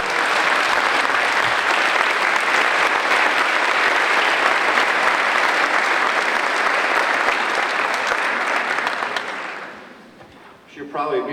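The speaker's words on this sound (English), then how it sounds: "Could we have a round of applause?" A large audience at a scholarship event gives a loud, sustained round of applause lasting about ten seconds, dense and steady before tapering off, with a voice speaking as it ends.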